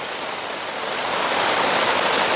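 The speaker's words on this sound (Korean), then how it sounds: "비가 또 내리니 시작하네요." Steady, dense rainfall hisses continuously at a valley campsite, a heavy downpour with no voices and a slight swell in loudness toward the end.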